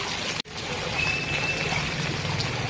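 Floodwater after heavy rain runs through a flooded market street and into homes, a continuous trickling, pouring rush heard up close, broken by one brief dropout near the start.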